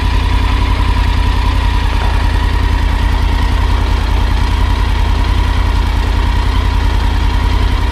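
A motorcycle engine idles steadily close by, a low rumbling putter with a rapid regular pulse and no voices.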